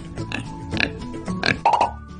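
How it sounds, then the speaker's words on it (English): A cartoonish pig oinks in a few short grunting bursts among other toy-like sound effects in a playful barn scene, fairly close and moderately loud. "It's a pig."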